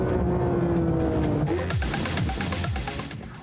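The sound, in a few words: 500 horsepower sports car accelerating on racetrack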